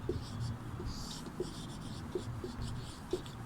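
Chalk writing an answer on a classroom board during a Sanskrit lesson, soft scratching strokes and light taps repeating in short bursts at a quiet, steady level with faint room noise.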